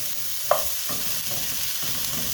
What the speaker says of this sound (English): I just want to get this sauteing first